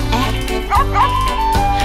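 A cartoon basset hound barks in a children's song, giving a few bouncy yelps over steady music and sung vocals.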